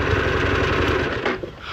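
Harley-Davidson Pan America motorcycle engine running with a close, rapid mechanical chatter and low throb that cuts out abruptly near the end, leaving quieter background.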